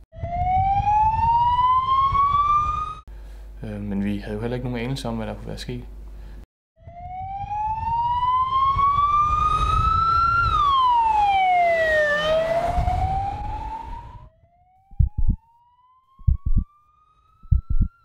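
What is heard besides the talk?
sirens of several ambulances and emergency vehicles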